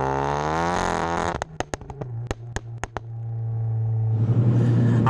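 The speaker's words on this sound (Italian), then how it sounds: "appena scalo, metto la terza, sentiamo i pops and bang, rilasciamo" Tuned 450 hp Golf GTI with manual gearbox and Bilstein B16 suspension, set up for track and mountain roads: a loud engine drone broken by about eight sharp exhaust pops and bangs on the downshift, then the revs settle and climb again.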